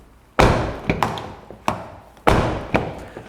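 Car doors on a 2022 Hyundai Tucson Hybrid being shut, several separate solid thuds spaced about a second apart, close and clear with no talking.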